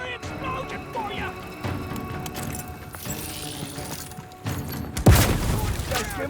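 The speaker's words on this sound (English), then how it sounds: "Free explosion for you!" Explosion in the video game Outer Worlds 2 during combat: a sudden loud boom bursts out near the end after scattered gunfire and clatter.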